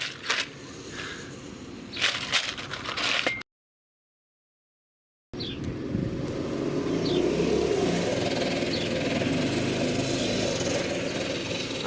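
A small Harbor Freight engine on a go-kart revs and drones loudly nearby, rising and holding at a steady roar after a brief silence, with some clattering early on.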